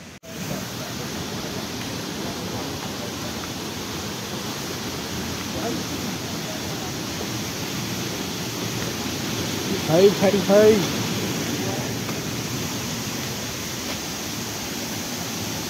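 At Amboli Ghat, a waterfall gives a steady, dense rushing roar that fills the whole stretch, while a few voices talk briefly over it.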